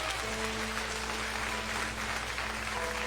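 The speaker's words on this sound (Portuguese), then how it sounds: "aplauda o Senhor nessa noite" A church congregation claps during an evening evangelical service, continuous applause mixed with a steady sustained organ or keyboard tone underneath.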